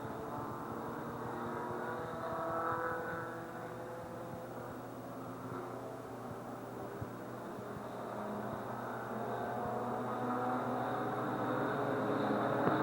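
Race cars run on an oval track during the SteelCity Stampede, a continuous distant engine roar that swells and fades slightly as the cars pass. No voices are heard.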